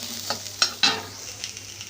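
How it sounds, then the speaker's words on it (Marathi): Onion and turmeric stirred and sautéing in a pan, a steady close sizzle broken by a few sharp scrapes of the spoon against the metal. "कांदा छान आपण परततोय"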